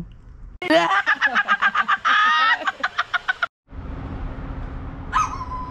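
A person imitates a dog with a rapid series of about a dozen loud, close barks, then a pause and faint background noise with a short yelp.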